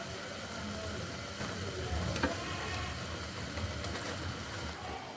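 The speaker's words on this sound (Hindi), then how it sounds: "अच्छी तरह मिक्स करने के बाद मैं इसमें चावल शामिल कर दूँगी जो कि मैंने पहले से बॉईल करके रख लिए हैं" Boiled rice being stirred into a pot of Hyderabadi gulati in a home kitchen, a steady scraping and mixing hiss with faint sizzling throughout, close and continuous with no talking.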